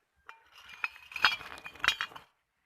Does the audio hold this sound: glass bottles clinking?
yes